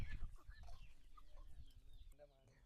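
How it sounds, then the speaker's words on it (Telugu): Fighting roosters, game fowl kept on a large village farm, cluck and call repeatedly in short bursts at close range, with faint voices in the background. "ఇవంతా మొత్తం పందెం కోళ్ళు అన్నమాట"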